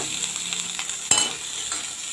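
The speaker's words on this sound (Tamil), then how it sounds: "இப்போ நம்ம கட் பண்ணி வச்சுருக்க தக்காளியை சேர்த்து வதக்கிக்கலாம்." Chopped tomatoes sauté with garlic in a hot pan, giving a steady close sizzle with light stirring scrapes and one sharp utensil knock midway.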